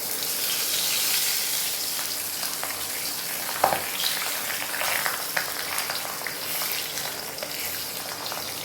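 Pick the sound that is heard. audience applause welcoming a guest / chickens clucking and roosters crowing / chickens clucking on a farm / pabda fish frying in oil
pabda fish frying in oil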